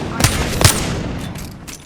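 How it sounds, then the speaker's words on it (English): Rapid gunfire from the Apex Legends battle royale shooter, two loud sharp shots close together followed by a fading trail of quieter distant firing. "I'm taking shots"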